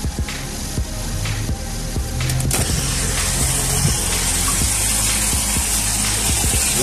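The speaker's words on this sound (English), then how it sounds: "now I'm going to fill the water in here so I can dip the case in the water with the paint" Water gushes steadily into a tub being filled for hydro dipping a phone case in oil paint, a loud, continuous close-up pouring with faint clicks early on.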